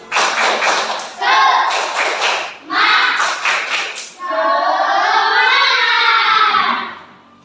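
An elementary school class at SDN 02 Medayu performs the 'tepuk semangat' clapping chant, children's voices chanting in bursts over rhythmic claps, ending in a long, drawn-out sung call.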